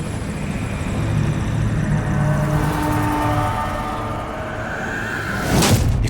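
Helicopter rotor drone in Metal Gear Solid V, a steady low chopping roar sustained throughout, with a louder swelling burst near the end.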